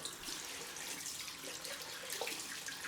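Cold tap water runs steadily into a sink for a post-shave rinse, a faint, even hiss of flowing water with no voices.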